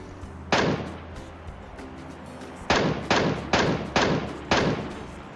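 Gunshots ring out in a PUBG Mobile match: one loud shot, a pause, then a rapid series of five heavy booming shots close by.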